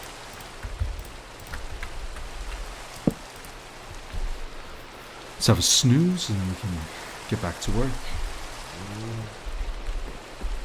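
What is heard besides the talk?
rain in the video game Minecraft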